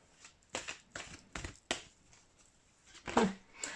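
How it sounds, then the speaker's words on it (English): Tarot cards pulled and shuffled by hand, a handful of short separate papery slaps and flicks, close and clear against near silence. "Let's pull some more cards, please."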